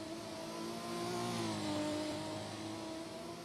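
A race car in a racing video game leaves the pit lane during a six-hour endurance race, its engine droning loudly and steadily with a slight rise in pitch, unbroken by talk.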